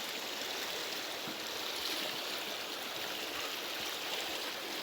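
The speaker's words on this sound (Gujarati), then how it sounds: "પાણી આ પુલની નીચેથી જાય છે અને આ બાજુ પાણી નીકળે છે" River water flows steadily under a bridge near a pond, a continuous soft rushing wash heard at a distance with no other sounds.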